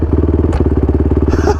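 An adaptive ATV built for amputee veterans idles close by with a steady, rapid engine pulse, a mechanical clunk of the gear shift into first near the middle and a brief rising rev at the end.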